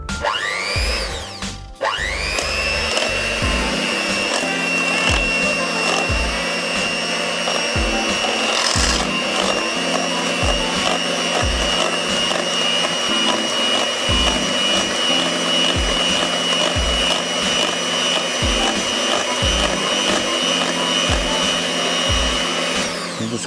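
An electric whisk or mixer whirs steadily through cream and mascarpone for tiramisu in a bowl, a close, continuous motor hum with rhythmic scraping knocks of the beaters against the bowl, no talk.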